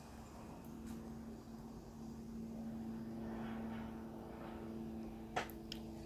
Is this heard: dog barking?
no